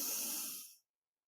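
One long, deep breath drawn in during a cardiac coherence breathing exercise, a close, airy rush that fades and stops abruptly into silence.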